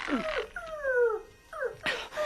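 A dog in a Tintin audio drama gives a short low growl, then drawn-out whimpering whines that slide downward, followed by another whine and a sharp yelp, close and fairly loud with no talking.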